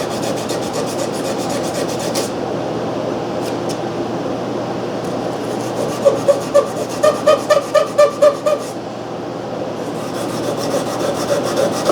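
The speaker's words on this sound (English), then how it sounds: "Dust that off a little with. I got some Scotch-Brite here." A Scotch-Brite pad scrubs dust off an old Briggs & Stratton Model B engine with a loud, close, continuous abrasive rubbing that breaks into a quick run of rhythmic strokes midway.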